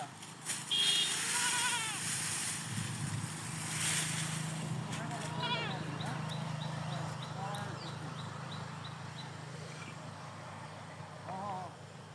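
Goat bleats ring out over a busy outdoor background of voices, wind and rumbling engine-like noise, with some higher calls scattered throughout.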